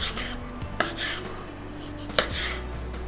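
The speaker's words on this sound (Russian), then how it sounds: "Нарезаем их." A knife slices through sous-vide cooked duck breasts on a board, giving soft cutting strokes and two sharp knocks as the blade meets the surface, close and quiet with no talk.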